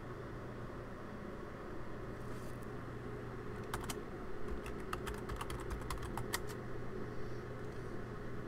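Crisp clicks from typing text on a computer keyboard, a quick irregular run of keystrokes in the middle of the stretch, heard close over a steady low background hum.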